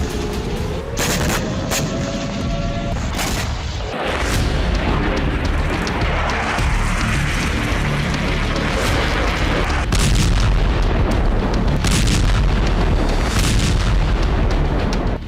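Israeli air-to-surface missiles and Iranian air defense missiles in a night sky battle, heard as repeated heavy booms and bursts of gunfire-like cracks over a constant rumbling roar, loud and chaotic.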